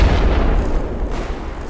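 Fireworks bursting at a church in a video game, a dense continuous low boom and rumble that fills the whole stretch, loud and close with no pauses between blasts.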